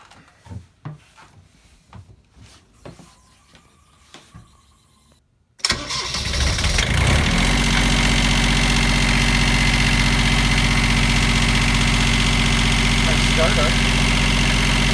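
A sailboat's engine cranks and catches after some clattering and handling noises, then settles into a loud, steady, droning idle that continues to the end.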